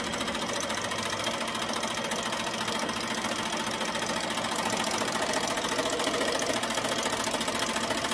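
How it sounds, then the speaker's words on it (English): An embroidery machine stitching out a name on an order piece, a loud, continuous rapid needle rattle and motor hum that stays steady and close throughout, with no talking. "right now it's stitching out the name"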